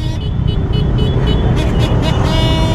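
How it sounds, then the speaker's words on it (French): A loud aftermarket car horn blares continuously with strong tonal bands and bursts of pulsing, set against dense road and engine noise. "Et maintenant il y a un klaxon de merde,"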